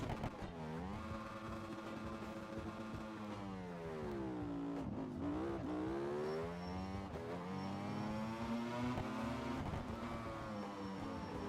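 Motorcycle engines, one a factory Ducati, screaming through a race in a video game, loud and continuous with pitch rising and falling through gear changes, no talk.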